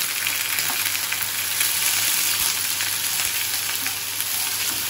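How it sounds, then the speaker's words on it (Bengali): Onion paste for egg korma sizzles and fries steadily in a hot pan, a dense continuous crackle that holds at an even loudness throughout with no talking. "এইবারে এর মধ্যে আমি পেঁয়াজ বাটাটা দিয়ে দিলাম।"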